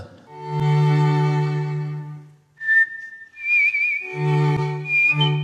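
A person whistles the melody of Schubert's The Trout, a clear sustained tune with a held note and bright trills, loud and close with no talking.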